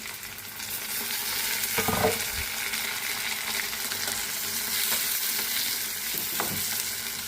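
Tomatoes frying in a pan for a Telugu amaranth leaf chutney, a steady close sizzle running throughout with a couple of brief stirring scrapes, no talking.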